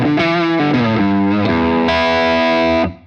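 Electric guitar on its neck pickup driven through a Wampler Moxie overdrive pedal plays a short run of distorted, sustained notes up close, ending with one held chord that rings and then cuts off.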